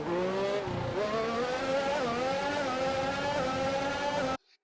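Formula One cars from the F1 2021 racing game on Xbox Series X, heard in the broadcast sound mix: a loud, continuous high-pitched engine whine rising and shifting through gears before cutting off abruptly.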